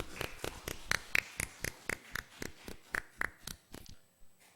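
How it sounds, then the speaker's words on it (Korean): A congregation at a Korean church Sunday service claps in steady unison, roughly sixteen crisp even claps at a quick regular pace, fairly quiet and ending abruptly. "우리 박수로 크게 하나님께 영광을 올려드리십시오"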